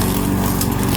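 Poulan Pro lawn mower engine running steadily after a carburetor cleaning, a loud, close, continuous drone with no talk over it.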